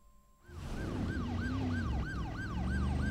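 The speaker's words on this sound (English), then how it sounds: "So we're driving an ambulance now." In the game Driver San Francisco, an ambulance siren wails in a steady, repeating up-and-down cycle, loud and close, over a low engine drone.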